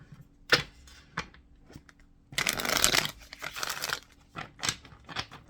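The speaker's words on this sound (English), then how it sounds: "I'll shuffle." A tarot card deck being shuffled by hand, with soft riffling flutters and a longer dense burst of card rustling between brief taps and slaps, close and without talk.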